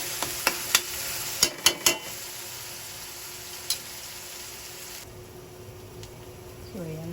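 String beans, squash and okra fry in a pan for pinakbet, a steady sizzle carrying a few sharp clinks and stirring scrapes near the start. A low hum runs underneath, with no talk.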